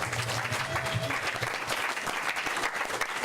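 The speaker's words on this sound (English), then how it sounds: "Let's give Jazz a round of applause" Audience applause for a performer at an evening panel event on Black liberation and ecology, a steady wash of clapping throughout with faint voices underneath.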